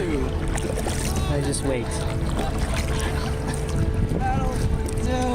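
A kayak paddled on open water on a trip to a beach, a steady churn of water and wind noise with people talking over it throughout.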